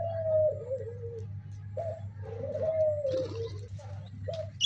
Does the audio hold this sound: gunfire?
no